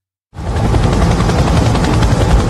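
A helicopter in the TV drama Chernobyl cuts in abruptly and roars on loud and close, its rotor chop throbbing steadily without any voices.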